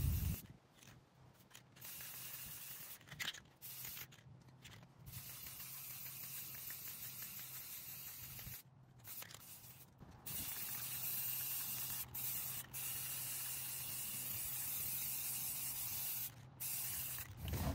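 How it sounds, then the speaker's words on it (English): Drawers are spray painted with hissing aerosol bursts, close and continuous in long stretches broken by brief pauses, with a faint rattle between sprays. "spray painting drawers can be a little tricky."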